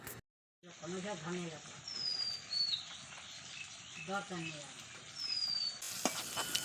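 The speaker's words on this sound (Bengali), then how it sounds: "এখানে আমি কাঁকরোল ভাজা করছি, তার আগে ভেজেছিলাম বেগুন" Spiny gourd (kakrol) frying in a pan over a wood fire, a steady soft sizzle running through the clip, with voices talking over it and brief bird chirps nearby.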